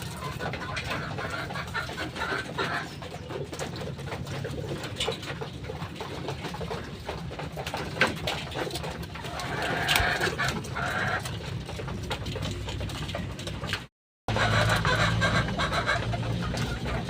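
Racing pigeons feeding in a loft, a dense, busy mix of pecking, fluttering and soft bird calls that runs steadily throughout, with one brief cut to silence before it resumes.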